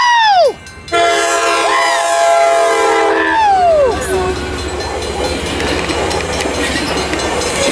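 A Coaster passenger train passes near Palm Street, its horn sounding in loud bending blasts before giving way to the close, steady roar and clatter of cars going by.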